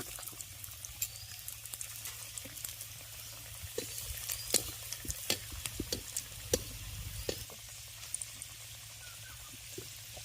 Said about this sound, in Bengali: দুটো দুটো করে ভাজছি